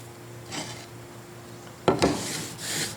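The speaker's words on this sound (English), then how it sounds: "Sand those off." Sanding small leftover wood pieces for a blacksmith tong toolbox at a workbench: a few brief abrasive rubbing strokes, quiet, with a slightly louder scrape near the end, no talking.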